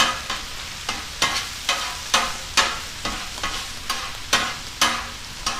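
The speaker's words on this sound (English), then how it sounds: "Now we have our ginger and our garlic. Put that down. Add a little bit of oil. Mix that around until it becomes fragrant." Ginger and garlic fry in a little oil in a pan, stirred in a steady rhythm of repeated scraping strokes, about two per second, over a continuous close sizzle.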